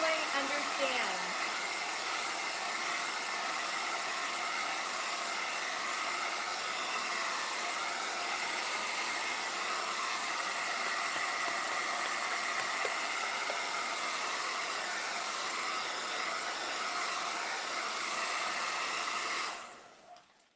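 A hair dryer blows steadily on a painted door hanger to dry the paint, a loud, continuous close-up whoosh running without pause for about twenty seconds before switching off.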